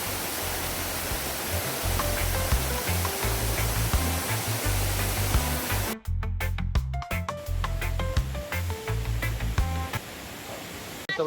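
Constant roaring rush of a waterfall at the deep end of a river in St. Andrew, Jamaica, loud and close, filling the whole clip without voices.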